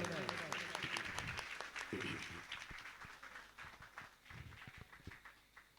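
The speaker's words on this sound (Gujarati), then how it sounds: "શાલ ઓઢાડી જોરદાર તાળીઓથી વધાવો" An audience at a ceremony honouring a saint with a shawl breaks into quick, scattered applause, clapping in bursts that fade and return, fairly faint and mixed with voices.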